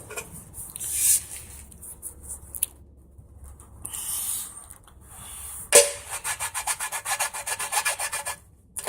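A paint chip repair tool scrapes along a paint run in a rapid series of short, close, rasping strokes, with quieter pauses between bursts.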